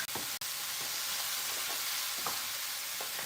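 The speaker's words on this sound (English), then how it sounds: "So now it's frying up, guys." Cabbage fries in a pan with a steady, close sizzle and crackle, and a few soft stirring scrapes come through the hiss; no one speaks.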